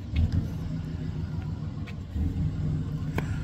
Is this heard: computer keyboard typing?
no